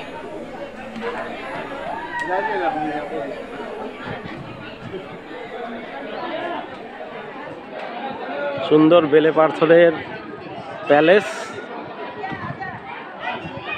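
A crowd chatters at Vijay Vilas Palace in Mandvi, Gujarat, a continuous murmur of many voices around the listener, with one nearby speaker talking over it and occasional louder calls standing out.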